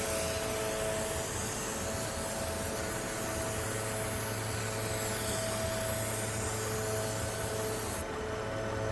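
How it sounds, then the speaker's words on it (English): AMSOIL silicone spray hissing from an aerosol can onto rubber seals of a Mercedes S550, a loud, steady close-up spray that runs continuously for about eight seconds before cutting off. "This is one of my favorite aerosols that AMSOIL makes. It's our silicone spray."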